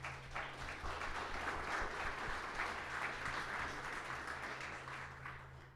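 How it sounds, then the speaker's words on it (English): Audience at a hardware meetup on farming technology applauds the panelists, a steady wash of clapping over a low hum, tapering off toward the end. "Can I get a round of applause for all of our panelists here?"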